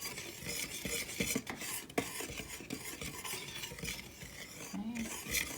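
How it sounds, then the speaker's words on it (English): A utensil stirs dry cookie ingredients, baking soda and salt, in a bowl, with continuous scraping and rubbing plus occasional light clinks against the side. "I'm gonna stir it. All my dry ingredients and stir it all up and blend it well."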